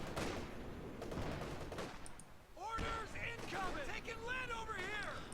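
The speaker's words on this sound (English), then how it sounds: "Good fire from the pack howitzer on the LMG." In a competitive World War II strategy video game, a pack howitzer shells an enemy machine gun position, producing a dense barrage of booms and rattling gunfire under steady commentator speech.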